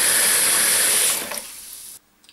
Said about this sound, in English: What I'm going to do now is just add water to this so that all the bones are covered.